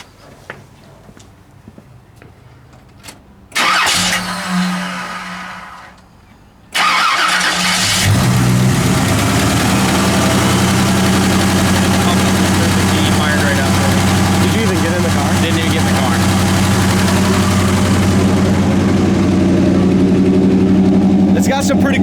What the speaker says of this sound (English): I want to fire it up quick